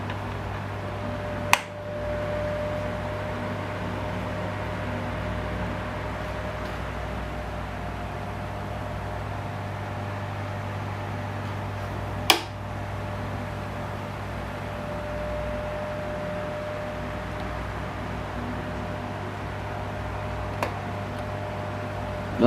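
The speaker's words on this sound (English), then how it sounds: "I don't know what the whirring noise in the motor is" A National F-NM305 electric fan with its original blade runs with a steady low motor whir and hum, close and continuous, broken by a couple of sharp ticks.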